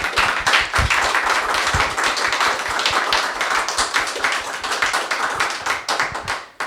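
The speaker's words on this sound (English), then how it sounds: "Can we give him a hand of applause?" Audience applause for a speaker at the close of a panel discussion on South Africa's path out of apartheid: dense, close, loud clapping that holds steady, then thins and fades near the end.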